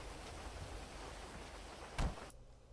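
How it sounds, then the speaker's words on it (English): Steady rain falling in the game GTA San Andreas, a soft continuous hiss of drops with a brief louder burst near the end before it cuts to near silence. "God damn it, it's raining again"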